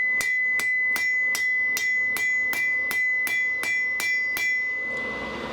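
A hammer strikes a scythe hook on an anvil face about a dozen times in an even rhythm, each close, loud blow ringing with a sharp metallic tone, with no talking.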